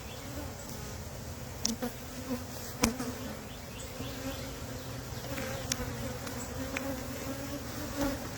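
A dense, steady drone of a swarm of honey bees buzzing all around, continuous and close, with occasional soft knocks and clicks.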